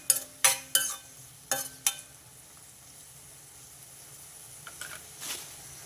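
Onions frying in a pan, heard as a low steady sizzle broken by several sharp scraping stirs early on, then quieter fizzing with a couple of faint clinks near the end; no one speaks.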